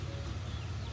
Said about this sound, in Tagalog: Mga native na manok.